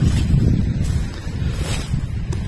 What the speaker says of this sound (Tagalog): Ayan na naman yung hangin.